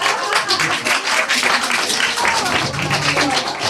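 A group claps steadily for a new arrival at a casual social gathering, the dense, continuous applause held at an even level throughout with voices mixed in underneath.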